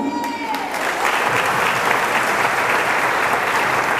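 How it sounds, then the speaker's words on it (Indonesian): A church congregation bursts into sustained applause at a joint Christmas celebration, dense clapping filling the room after a voice fades out at the start. "Kau tepuk tangan untuk Tuhan."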